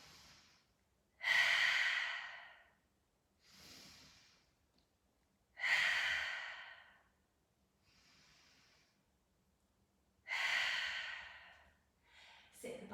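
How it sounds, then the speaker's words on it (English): Slow, deep cleansing breaths during a yoga session, three long airy exhales spaced several seconds apart with softer inhales between, close and clear in a quiet room. "Let's take some cleansing breaths wherever you are."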